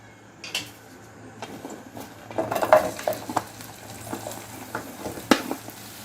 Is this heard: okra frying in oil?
yes